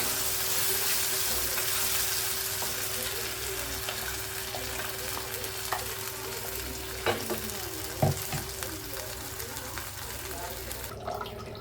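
Kara chutney paste tipped into a hot pan with curry leaves and dried red chillies, frying in a steady low sizzle while a spoon scrapes and stirs, with a few sharp clinks near the end.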